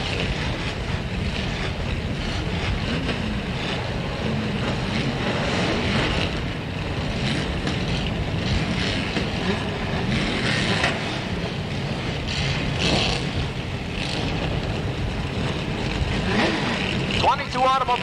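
Sportsman stock cars fire up and idle together at Slinger Speedway before a 100-lap fall classic feature in 1985, a dense, continuous engine rumble heard from the grandstand with wind buffeting the microphone.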